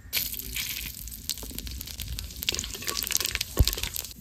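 Cumin seeds and bay leaves sizzle and crackle in hot oil for a fish curry, a close, steady frying hiss with scattered pops and one sharp spatter.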